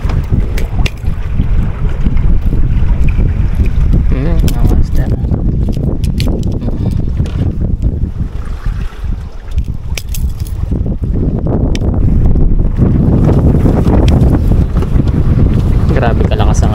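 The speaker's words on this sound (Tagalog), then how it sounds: "Grabe kalakas ang hangin." Strong wind during winter monsoon boat fishing off Palawan buffets the microphone with heavy, roaring rumble and gusty surges that never let up, with faint voices buried beneath.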